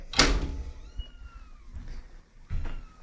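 Young kittens meow close by, one sharp loud cry at the start and another near the end, with soft rustling and a light thunk between.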